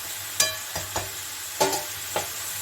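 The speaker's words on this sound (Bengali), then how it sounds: "একটু ভাজা ভাজা হোক ঝিঙাটা," Ridge gourd frying in a pan without salt, with a soft background sizzle and a few light, spaced scrapes or knocks of a spatula against the pan.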